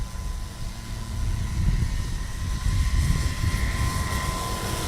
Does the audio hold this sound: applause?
no